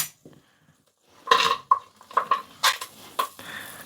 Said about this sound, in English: First things first, in with the onion.